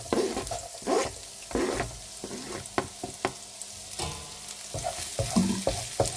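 Chopped onion and grated garlic go into a hot pan, with soft sizzling and repeated scraping stirs from a utensil, close and fairly quiet, with no talk.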